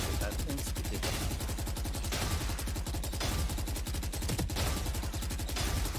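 Rapid gunfire from the Valorant video game during an aim-test drill, loud and continuous. The shots come in a fast, even machine-gun rhythm that never pauses for the whole stretch.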